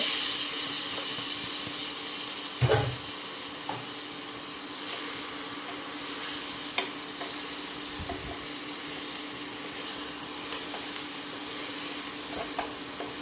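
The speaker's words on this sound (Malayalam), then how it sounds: "ഈ അരി ചോറിൽ ഈ നെയ്യിലും എണ്ണയിലും കൂടി നന്നായിട്ട് വഴറ്റിയിട്ടാട്ടോ ചോറുണ്ടാക്കുന്നത്" Rice sautéed in ghee and oil for Kerala ghee rice, a steady close sizzle with occasional scraping stirs and a few knocks against the pot, no talking.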